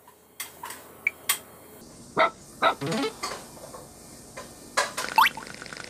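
Dog barking in a video game, a few short sharp barks scattered among clicking ticks and small effects, fairly close and moderately loud, with no talk.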